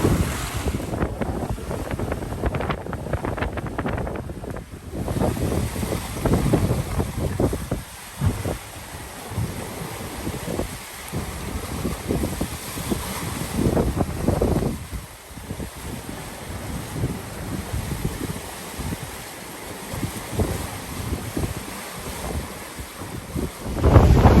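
Wind roars steadily across a sailboat under a Genoa sail making about 7 knots on a solo Caribbean Sea crossing, with broadband gusting and water rush continuing throughout, loud and close.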